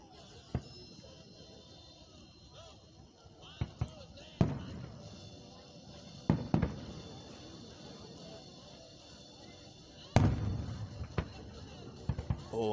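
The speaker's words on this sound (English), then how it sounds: "Having a fireworks show here in Van Wert, Ohio, for America's 245th birthday" Independence Day fireworks go off over Van Wert, Ohio, on July 4, 2021: scattered sharp booms and crackles, several of them strong, sound at irregular intervals over a quiet outdoor background with occasional faint voices.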